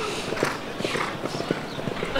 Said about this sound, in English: what a pretty horse